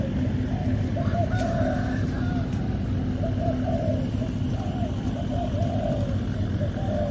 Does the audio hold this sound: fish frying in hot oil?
no